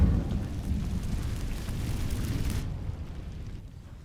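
Incendiary spell setting dry vines alight in Hogwarts Legacy: a dense, rushing whoosh of flame with a low rumble that burns steadily for a couple of seconds, then cuts off into quiet.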